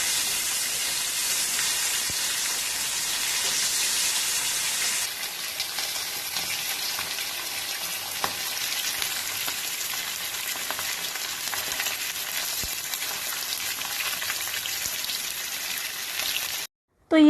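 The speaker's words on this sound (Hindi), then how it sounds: "फिश का एक साइड फ्राई हो चुका है, अब मैं दूसरी तरफ भी अच्छे से फ्राई कर लूँगी।" Fish fries in hot oil in a pan for a Bengali doi katla curry, a steady crackling sizzle that continues evenly before cutting off abruptly near the end.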